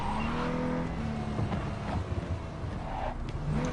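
A car engine rumbles steadily close by, with faint rising and falling tones above it, and holds at a fairly even level from start to finish.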